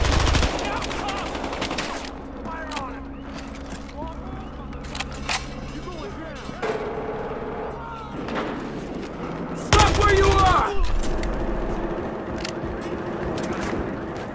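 An MP5K submachine gun fires in rapid bursts in a video game, with loud clustered shots scattered among shouting voices and other action noise.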